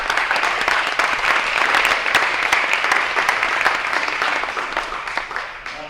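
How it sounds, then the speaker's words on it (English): Lecture audience applauding in a hall, moderate clapping sustained for several seconds and tapering off toward the end. "That was a very tepid applause."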